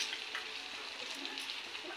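Onion and curry leaves frying in hot oil by a wood-fired stove, a close, steady crackling sizzle with stirring, heard alone.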